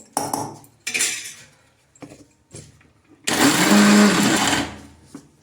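Electric grinder coarsely grinding dry fruits for mixed dry fruit barfi, a loud sustained whirring burst after several short clattering pulses, close and alone.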